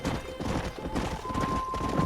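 Horse hooves clip-clop steadily in Red Dead Redemption as a mount runs, a dense, continuous rhythmic patter with faint tonal game sounds above, no talk.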